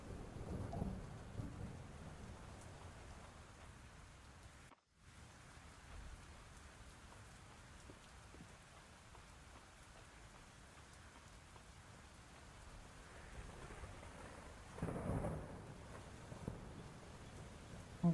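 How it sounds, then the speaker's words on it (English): Steady rain patters on surfaces in the Fields of Mistria video game, with low rumbling thunder swelling near the start and again toward the end, calm and continuous with no voices. "Sound of rain is so peaceful."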